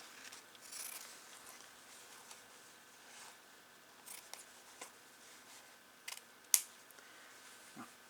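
Scissors cut through fabric during redwork embroidery, giving a few quiet, close, scattered snips with small handling rustles between them.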